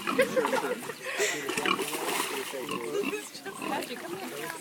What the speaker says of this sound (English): How old are these pigs?